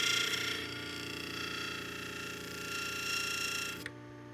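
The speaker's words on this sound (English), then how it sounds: "When you grind underneath, you can look through the wheel and down on your work." The wheel of a Work Sharp 2000 sharpener and precision grinder hums steadily with a bright, whirring tone as a blade is sharpened. The sound is even and continuous, then cuts off abruptly near the end.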